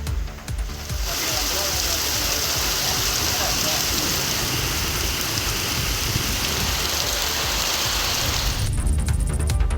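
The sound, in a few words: rain falling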